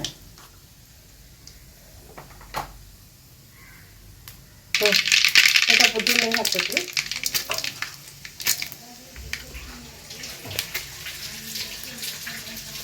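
Mustard seeds hit hot oil for cabbage palya, bursting into a loud, crackling splutter of rapid pops partway through, then settling into scattered lighter crackles.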